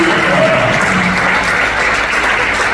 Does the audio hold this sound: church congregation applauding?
yes